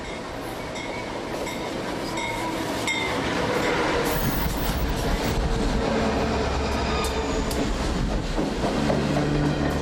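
A passenger train runs along the Gulf Coast with a constant loud rumble of wheels on rails, scattered clacks and faint squeals, steady and close throughout.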